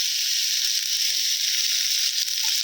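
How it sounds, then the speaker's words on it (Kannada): Oil sizzles steadily in a pan with onions frying for tomato chutney, a continuous close, bright hiss with no talking over it. "ಇವಾಗ ನಾನು ಇದಕ್ಕೆ 1 ಸ್ಪೂನಷ್ಟು ಆಯಿಲ್ನ ಆ್ಯಡ್ ಮಾಡ್ಕೊಳ್ತಾ ಇದ್ದೀನಿ."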